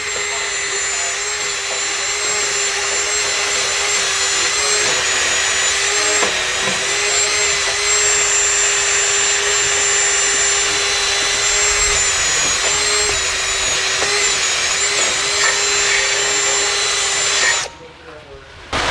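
A power tool cleans the rust from the wheel hub flange of a Hyundai Elantra during a front brake service, a loud, steady high-pitched whine with slight dips in load, running continuously for most of the span before stopping abruptly near the end.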